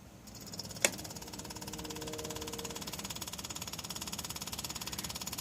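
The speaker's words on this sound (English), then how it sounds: "let's turn the fuel pump on, check for leaks with the jumper pack" On a 1976 Ford F250, an electric fuel pump clicks on after a sharp snap and then ticks in a fast, even pulsing rhythm, faint and mechanical, with a low hum beneath.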